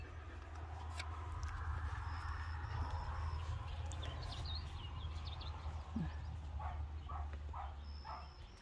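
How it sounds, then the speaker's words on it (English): In a lazy back yard with a mini Aussiedoodle puppy litter, a poodle barks from inside a crate somewhere in the background, faint and distant, with a few short yips over a steady low outdoor hum and some bird chirps. "So if you hear the barking in the background,"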